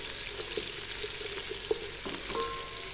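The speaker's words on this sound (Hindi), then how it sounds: "प्याज को हमने अच्छे से यहाँ पर फ्राई करना है" Sliced onions frying in a pan for mutton yakhni pulao, a steady soft hiss of oil with a few faint clinks and stirring sounds, fairly quiet and continuous.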